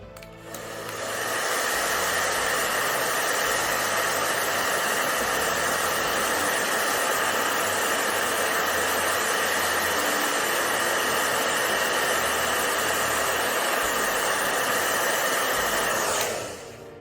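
A hair dryer blasts hot air onto a statue being repaired, a loud, steady, unbroken rush of airflow and motor whine that starts up, runs for about fifteen seconds and cuts off cleanly.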